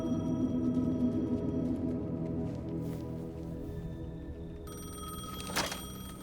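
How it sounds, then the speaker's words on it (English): A payphone in the video game Alan Wake rings in a sustained electronic tone over a low droning ambience, followed by a sharp ringing burst near the end. "The payphone was ringing."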